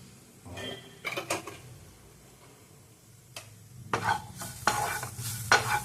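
A spoon stirs chicken kulambu masala in a cooking pan with soft sizzling, scraping and clinking strokes in irregular clusters, close by and without talking.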